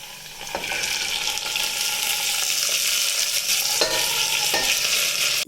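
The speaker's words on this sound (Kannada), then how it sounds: "ನೆಕ್ಸ್ಟ್ ನಾನು ಇದಕ್ಕೆ ಚೆನ್ನಾಗಿ ತೊಳೆದಿಟ್ಕೊಂಡಿರೋ ಅಲಸಂದೆ ಕಾಳು ಹಾಕ್ತಾಯಿದ್ದೀನಿ." Washed black-eyed beans hit a hot frying pan and are stirred, giving a loud close sizzle with repeated scraping spoon strokes and a few sharp clinks, without speech.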